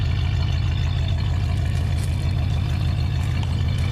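A 1973 Oldsmobile Delta 88 Royale four-door sedan with a 455 Rocket V8 rumbles steadily from its exhaust, a deep continuous throb heard close up without talk.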